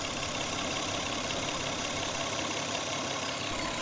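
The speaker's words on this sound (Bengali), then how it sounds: "আপনার ইঞ্জিনের সাউন্ড শুনলেই বুঝতে পারবেন গাড়িতে মিসিং করতেছে" A misfiring car engine idles with a continuous dense mechanical drone, close up and steady throughout, its rough running not clearly broken into distinct stumbles, with no voices.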